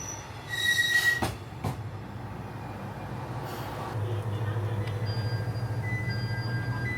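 A train rolls into Akaoka Station in Kochi, Japan, with squealing wheels and rumbling railcars, a loud screech early on, then a steady low rumble as it slows.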